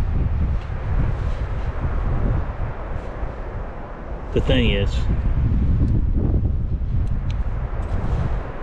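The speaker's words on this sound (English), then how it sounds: "It's super windy out here" Heavy wind buffets the microphone in a constant low roar, with a brief voice speaking partway through.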